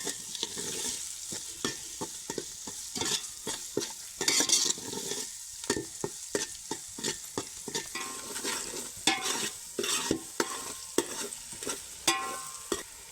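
Rice grains stirred into a frying brinjal bharta mixture make repeated scraping, clattering strokes of a spoon against the pan in an irregular rhythm, over a soft continuous sizzle, with no voices.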